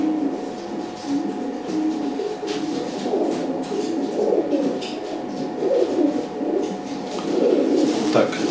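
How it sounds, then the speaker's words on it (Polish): Blue male racing pigeon cooing in soft, repeated low throaty phrases, fairly close and steady throughout, with faint background noise and no talk. "Prezentuję gołębia o numerze 174. Jest to niebieski samiec, tak myślę."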